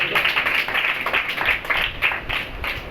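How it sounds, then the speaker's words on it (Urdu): Applause from a church congregation, a steady wash of many hands clapping at close range, continuous and fairly loud for the whole stretch, with no talking over it. "سارے زوردار تالیاں صرف یسوع کے جلال کے لیے"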